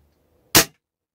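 A single sharp report from a Beeman air rifle with interchangeable .177 and .22 barrels, one short loud crack standing alone after near silence.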